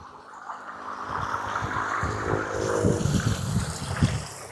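A stream flows where wild fern shoots are gathered, a broad rushing murmur mixed with gusty wind buffeting the microphone, steady and fairly loud, with no speech.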